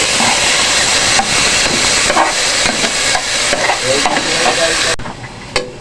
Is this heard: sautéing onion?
yes